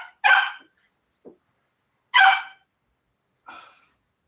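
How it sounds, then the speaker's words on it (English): A new puppy barks in a quiet room: two sharp, loud yaps with a few fainter yips between and after them. "A new puppy, y'all. New puppy."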